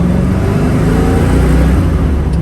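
A 1969 Chevrolet Camaro engine accelerating: loud, dense roar with deep low rumble, steady and close throughout, like a V8 pulling hard.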